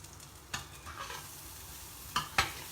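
A few soft, scattered scrapes as chickpeas seasoned with spices, salt and pepper are mixed in a frying pan, with brief clacks near the end over a faint background sizzle.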